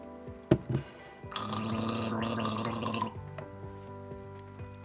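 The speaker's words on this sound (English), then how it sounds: "you take a glass of water and you gurgle it" A person gargles a mouthful of water from a glass in one sustained, bubbling throaty burst of about two seconds, preceded by a couple of short gulps and followed by quiet.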